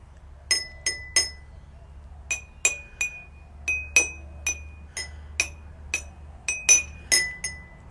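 Water-filled drinking glasses tapped gently one after another, about sixteen bright, ringing clinks at slightly different pitches. The clinks come in short clusters with pauses between them over a low steady hum.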